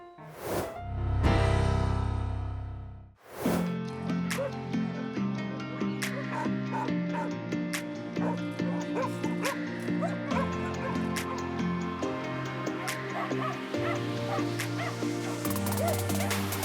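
A rescued dog from Kurakhove at an animal rescue centre barks, yips and whimpers repeatedly, loud and close, in an uneven rhythm with a short broad burst near the start.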